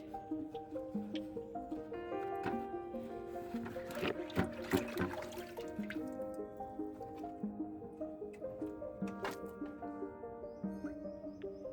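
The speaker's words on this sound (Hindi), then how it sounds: "बाओबाब के रूट बॉल वॉश कर लेते हैं।" Splashing and trickling water as a baobab bonsai's root ball is washed by hand, with broadband sloshes bunching around the middle of the clip, all under a steady tonal music bed.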